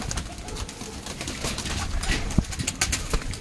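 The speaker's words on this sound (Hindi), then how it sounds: "तो पाजी ये कबूतर है अपने पास" Punjabi Malwai pigeons, including a red female, give soft cooing calls amid steady rustling and outdoor background noise, with a few sharp knocks near the end.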